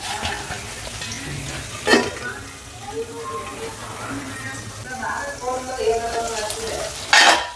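Capsicum frying in a pan for bisi bele bath, a steady sizzle with occasional stirring and utensil clanks against the pan, near and moderately loud, with a voice speaking over it.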